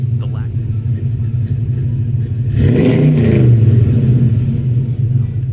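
A vintage car with a fiberglass-packed glass pack muffler gives off a deep, steady exhaust rumble that swells briefly with a rev midway, heard under a narrating voice.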